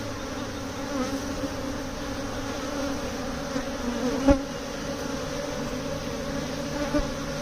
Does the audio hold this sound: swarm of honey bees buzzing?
yes